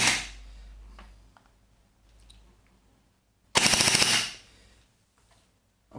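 Force Core FC-109 M4 AEG airsoft rifle firing 0.2 gram BBs on a 9.9 volt battery, one rapid full-auto burst of about a second, loud and close, with a quieter buzz earlier and no talking.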